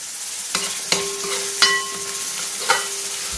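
Onions sizzle in a pan with ginger garlic paste for a traditional Kerala-style chicken curry, a steady frying hiss broken by four sharp spoon clinks and scrapes as the mixture is stirred.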